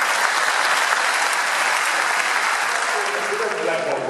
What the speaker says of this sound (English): please give us a big applause that we always be a high-touch company